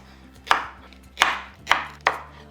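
Four sharp knife chops through green plantain on a cutting board, evenly spaced with short pauses, close and clear, no voices.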